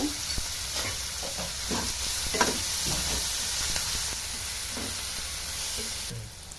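Chopped onions and green chilies with a pinch of salt fry in hot oil, a steady close sizzling hiss broken by scraping stirs of a spatula, with no talking.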